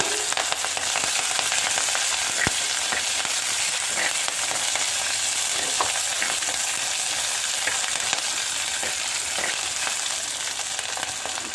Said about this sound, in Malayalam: നമുക്ക് അരിഞ്ഞു വെച്ച പച്ചമുളക് ഇട്ട് കൊടുക്കാം രണ്ട് മൂന്ന് പച്ചമുളക്